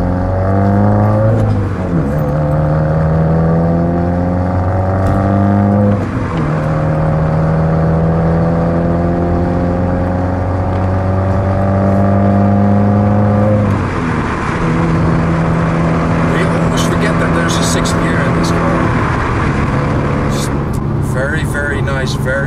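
A 2015 Subaru WRX with muffler delete revs up through a series of gear shifts around 3,000 RPM, each rising whine dropping back as it upshifts, with a deep exhaust note and a voice talking over it.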